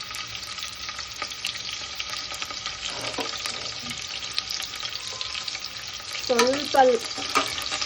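Sliced onions and two dried red chillies fry in hot oil, giving a steady close sizzle with occasional stirring scrapes and a brief voice speaking near the end.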